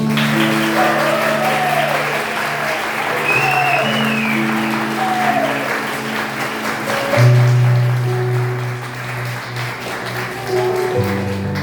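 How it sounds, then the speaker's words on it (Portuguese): Congregation clapping for a newly baptized girl in a small Catholic chapel, a steady moderate wash of applause lasting throughout, with a sustained organ or keyboard tone and some voices mixed in. "Palmas para Alice."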